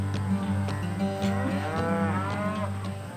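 Red Angus cattle on a large ranch herd lowing: several long, deep moos overlapping one another, fairly close and loud, over a steady hum with no talk.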